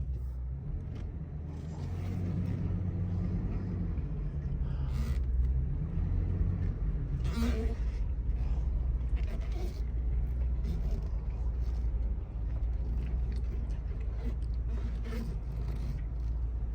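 A 2003 Ford F-350 box truck drives along, its engine a steady low rumble heard from inside, with occasional creaks and rattles and a slight shift in engine tone early on.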